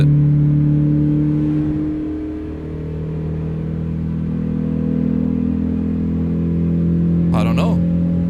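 A 2011 Volkswagen Polo GTI engine in American Truck Simulator holds a loud, steady high-rev drone close up, dipping briefly near the middle and rising again, with a short sharp burst near the end.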